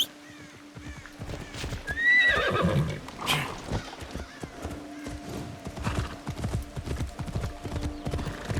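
Horse hooves clip-clop steadily at a gallop in Assassin's Creed Shadows while a horse whinnies loudly partway through, with a low engine-like hum underneath.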